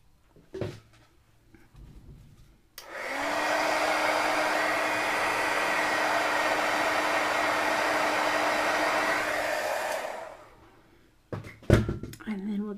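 A heat tool drying stamped ink on a Halloween craft project runs as a loud, steady blowing whir for about seven seconds, switching on abruptly and winding down, with brief clicks and handling noises around it.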